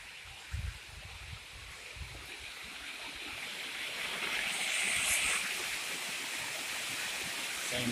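A fishing river cascading over rocks on a mountain trail, a steady broadband rush of water that swells slightly midway, with a few low bumps near the start and no talking.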